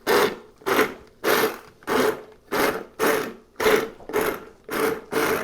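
A blender pulses vegan ranch dressing, with ten evenly spaced short bursts of whirring and grinding, each lasting about half a second and separated by brief pauses, loud and close.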